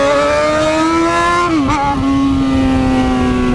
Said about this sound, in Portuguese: tem alguém acelerando pra mim, mano